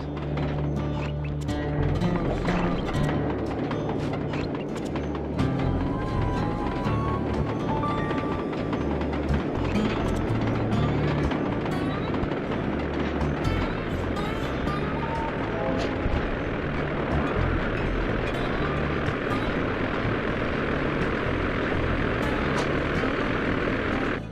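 Engine drone of the ice plane in the Sly Cooper video game, a steady loud propeller-like roar running throughout under layered game sound effects and music, with no pauses.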